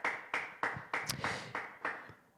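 Church congregation clapping in a celebration service, a run of loud, fairly even bursts of applause about every third of a second, close and distinct with no voices.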